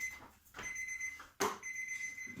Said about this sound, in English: keep going to hit the buzzer